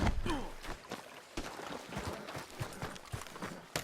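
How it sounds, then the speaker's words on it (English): Horse hooves clip-clop in Red Dead Redemption 2, a steady run of close hoof beats with a voice speaking faintly over part of it. "Beat the horse."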